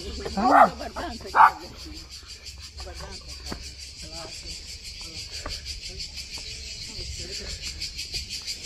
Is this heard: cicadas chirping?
yes